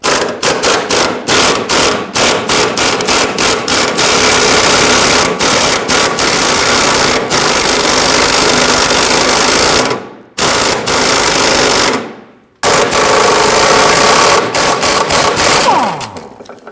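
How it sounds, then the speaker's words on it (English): An impact gun with a 21mm socket hammers on rear subframe bolts of a 2010-2019 Ford Taurus, loud rapid rattling bursts running long with two short pauses, close and dominant. "We're going to use our socket here and our impact gun."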